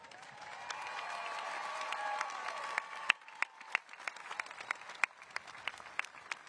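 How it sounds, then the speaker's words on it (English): A graduation ceremony audience applauds parents and grandparents: sustained clapping from a large crowd, with sharper individual claps standing out as it thins toward the end, plus a faint tonal sound early on. "Can we please get a round of applause for all of the parents and grandparents in the crowd with us this"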